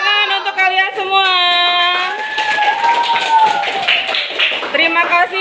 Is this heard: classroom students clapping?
yes